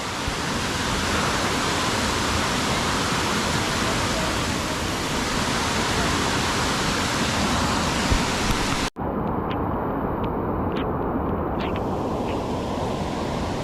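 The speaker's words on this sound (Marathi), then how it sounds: "पाऊस जोरात आहे धबधबा इकडे" A waterfall near Kondeshwar Temple outside Pune roars in heavy rain, a loud, dense and unbroken rush of water that fills the whole stretch at close range, with no talk.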